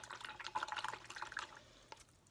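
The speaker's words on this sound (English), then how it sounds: "now I'm rinsing off in the clean water." Paintbrush swished and rinsed in a jar of clean water while painting a color wheel, giving soft close splashing and trickling sounds, fairly quiet and continuous, fading out near the end.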